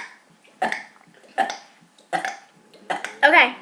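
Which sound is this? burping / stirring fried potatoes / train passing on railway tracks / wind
burping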